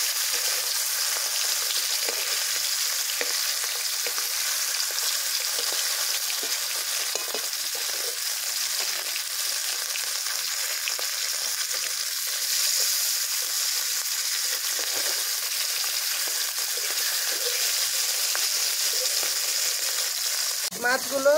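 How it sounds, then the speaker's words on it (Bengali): Bata fish frying in hot mustard oil, a loud, steady crackling sizzle that holds evenly throughout, with a brief voice right at the end. "তেল গরম হয়ে গিয়েছে, মাছগুলো দিয়ে নিচ্ছি।"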